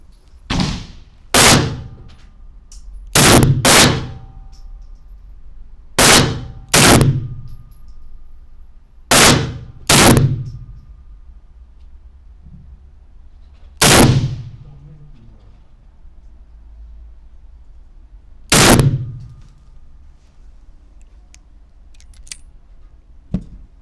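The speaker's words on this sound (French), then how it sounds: "après quelques tirs avec ces munitions" Sharp, loud single shots from a .38 S&W revolver, firing smokeless versus black powder loads, ring out at an outdoor range. About ten cracks come at irregular intervals, some as quick pairs, each with a short echoing tail and quiet gaps between.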